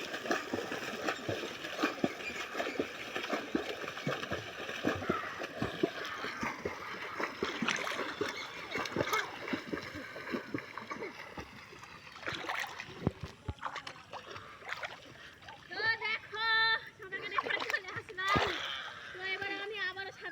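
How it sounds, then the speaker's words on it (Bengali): A person swimming in a small field pond, with irregular watery splashes and sloshing, fairly close, while voices talk over the activity and a brief shout or call rises near the end. "সাঁতার কাটছি আমি।"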